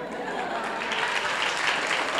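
Audience applause at a gathering, a steady dense wash of clapping hands filling the whole stretch at an even level, no voices standing out.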